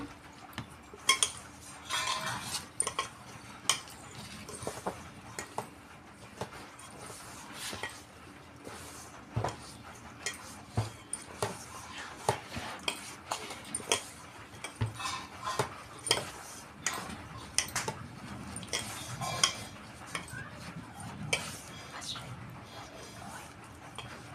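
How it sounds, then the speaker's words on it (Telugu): Wheat flour dough for biscuits being mixed and kneaded by hand in a bowl like chapati dough, with soft repeated squelches and clinks of utensils against the bowl, and a voice talking at times. "చపాతీ పిండి మనం ఎట్లా కలుపుకుంటాం సేమ్ అట్లనే కలుపుకోవాలి చపాతీ పిండి టైపే"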